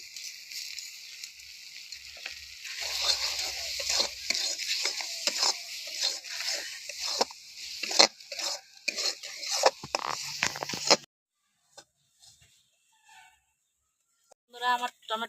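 Sugar being stirred into tomato chutney in a pan, a steady run of soft scraping and gentle sizzling strokes that stop abruptly partway through, followed by near silence and a few faint clinks.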